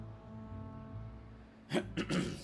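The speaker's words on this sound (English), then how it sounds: "Sorry, I had to clear my throat." A quiet low hum, then two or three short, rough throat-clearing bursts close to the microphone.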